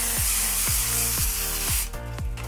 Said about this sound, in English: we are going to spray with cooking spray and then set it aside